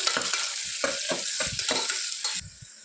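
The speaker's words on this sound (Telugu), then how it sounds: "ఇవి మంచి బ్రౌన్ కలర్లో వచ్చేంత వరకు ఫ్రై చేసుకోవాలి" Chopped onions frying in hot oil until brown, with loud close sizzling broken by repeated stirring scrapes and bursts, and no talk.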